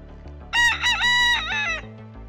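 A rooster of a fighting-chicken breed crows loudly and close, one full cock-a-doodle-doo with a rising start and drawn-out end, over a steady low background hum.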